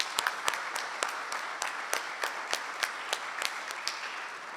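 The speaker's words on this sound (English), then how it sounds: "Let's give them a clap as well" A luncheon audience applauding scholarship recipients, a sustained patter of many hands with sharper individual claps standing out, moderately loud and even throughout, with no speech over it.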